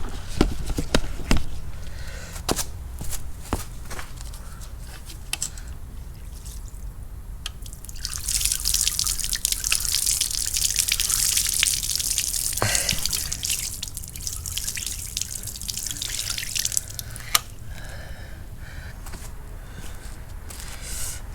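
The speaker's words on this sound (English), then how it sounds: "the fuel is coming off the fuel rail and spilling on my driveway here." Fuel leaks from the fuel rail of a 2008 CLK onto a driveway, with close, irregular drips and a trickle that swells into a steady spattering hiss through the middle.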